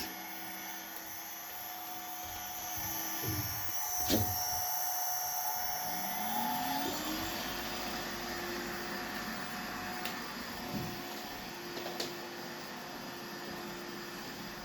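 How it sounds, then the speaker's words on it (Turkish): A PLC-controlled factory motor started remotely over a modem runs with a steady mechanical whine and hum, a tone sliding up as it spins up partway through, then holding a constant pitch, fairly quiet and alone. "Motorumuz çalışıyor."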